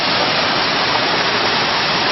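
The upper, topmost tier of a waterfall roars in a loud, steady, dense wash of falling water that stays unbroken from start to finish.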